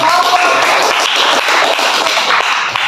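A class claps for a student group, loud close clapping filling the room with a dense patter of hand strikes and no talk over it.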